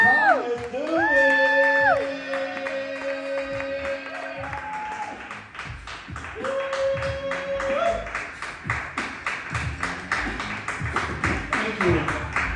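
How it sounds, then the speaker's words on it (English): A comedy club audience claps and cheers to welcome a comedian onto the stage. After an opening stretch of whoops and shouts, dense applause builds and stays loud and steady to the end. "Start clapping, start making some noise, and give it up for Thomas Dooley"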